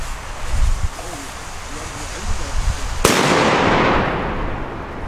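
A Zena Trueno No. 3 firecracker with a 1.5-gram P1 charge detonates with a single very loud, sudden bang outdoors. Its blast rolls off into a lingering echo. Someone talks beforehand amid wind noise.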